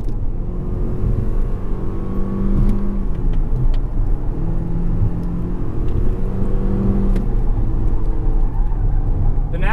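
A Toyota C-HR compact SUV's naturally aspirated four-cylinder engine drones loudly from inside the cabin, with rising and falling pitch as it accelerates, alongside steady road rumble.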